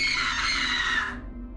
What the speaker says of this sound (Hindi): अचानक उनके कानों में किसी के चिल्लाने की आवाज सुनाई दी।